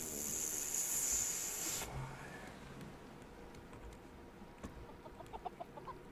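Chickens on a raft in the survival game Raft, clucking faintly in short soft bursts. A steady hiss sits underneath and fades away after the first two seconds.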